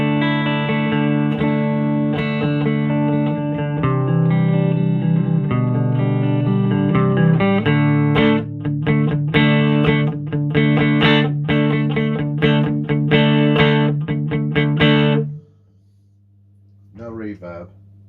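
An electric guitar plays a clean tone through an amp's normal channel with no amp reverb, first as ringing sustained chords, then as quick, choppy picked notes before a brief pause and a last short phrase.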